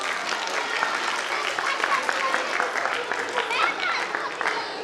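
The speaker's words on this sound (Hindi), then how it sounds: "अब जबरदस्त तालियों से इनका इस्तकबाल किया जाए।" An audience at a school annual function applauds, a steady wash of clapping from many hands, with a voice speaking over it.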